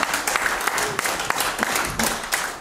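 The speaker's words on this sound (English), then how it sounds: "Give the Lord a hand clap this morning." A church congregation claps by hand in one steady burst of applause that fills the room, loud and constant from start to end, with some crowd voices underneath.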